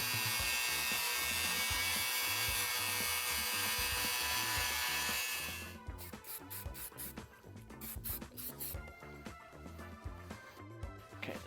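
A steady, loud cutting noise grinds through the droop stop on a Silverado ZR2 for several seconds, then gives way to choppy scraping and rasping bursts as the work continues up close.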